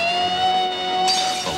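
A drinking glass shatters under an amplified singing voice: a loud sustained sung tone holds, then the glass bursts near the end with a sharp crash.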